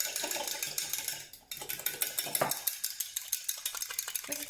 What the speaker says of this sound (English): Whisk away, whisk, whisk,